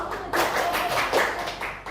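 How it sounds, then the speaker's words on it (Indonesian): A class clapping for a group of students, a run of quick, bright hand claps from a small room of children at fairly close range, steady with slight unevenness. "Tepuk tangan buat kelompok."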